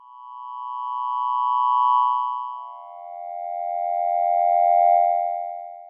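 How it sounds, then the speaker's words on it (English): A sine-like celestial pad synth patch built in Vital 1.5.1 with a harmonics stack: smooth, sustained pure tones that swell and fade, shifting to a lower pitch about halfway through, with no voices. "I wanted a layer that was sounding a bit more closer to a sine wave, like cosmic stuff."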